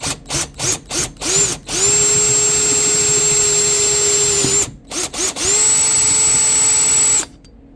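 A power drill bores out quarter-inch bolt holes in a new pump to fit 5/16 bolts, with several short bursts followed by two long sustained whines that stop abruptly.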